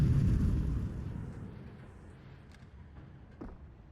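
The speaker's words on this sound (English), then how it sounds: "Trying to make it uncomfortable with the flashbang, but Headtrick doesn't budge." A flashbang grenade goes off in Counter-Strike during a match, a low booming burst that fades over a few seconds into quiet rumble, with a faint soft thud near the end.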